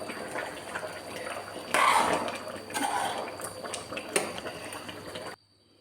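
Kerala-style chicken curry bubbles in a pot with a steady, close simmering hiss and popping, briefly louder midway, before cutting to near silence.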